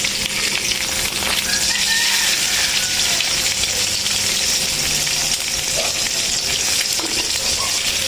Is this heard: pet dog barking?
no